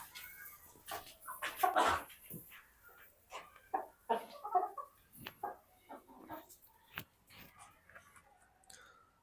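Chickens cluck in scattered bursts, some close and loud, others softer, with brief gaps and no talking.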